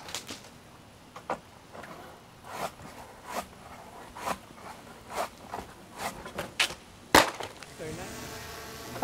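Notch Sentei 21 ft telescoping pole saw cutting an oak branch outdoors, a steady series of rasping strokes with sharp woody snaps, moderately close, ending in a louder crack near the end.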